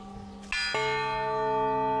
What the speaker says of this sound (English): A whole new meaning to wind chimes.